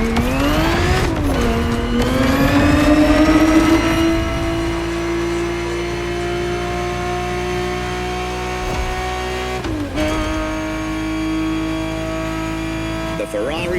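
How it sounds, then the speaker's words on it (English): A Ferrari 365 GTB4 from the 1970s roars loud and close in The Crew Motorfest, its engine revving up and holding a steady high drone, with a brief dip near the end, while a voice talks over it. "The Ferrari 365 GTB4 is the perfect vehicle for you to experience Ferrari racing as it felt back in the 70s"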